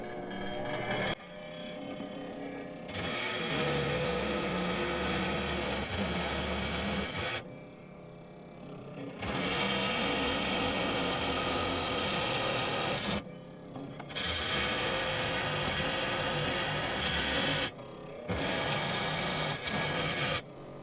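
A grinding machine trims a carnelian agate in several sustained rasping passes separated by short pauses, loud and close with no talking.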